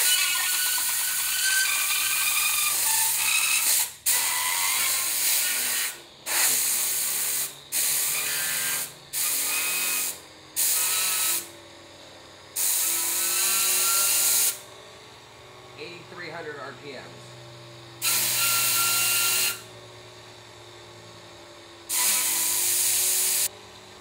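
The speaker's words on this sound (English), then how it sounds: "We're going to be doing this with just regular compressed air at about 80 psi just to see what we're going to have" A homemade Tesla turbine built from CDs or DVDs, driven by compressed air at about 80 psi, hisses loudly in repeated bursts of several seconds, with short gaps between them; a voice speaks briefly during one of the pauses.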